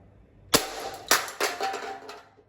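Several sharp, snappy shots from a toy Cyma AK-105 airsoft rifle fired at bottles in quick succession, each a crisp broadband crack with short tails, fairly close with no talking.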